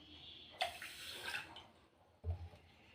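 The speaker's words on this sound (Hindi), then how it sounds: "अब इसमें डालेंगे हम इतना ही पानी जितना हमने चीनी डाली है।" Water poured into sugar in a kitchen bowl, a short splashing pour with a brief burst near the start and a soft second splash toward the end, close by, with no talking.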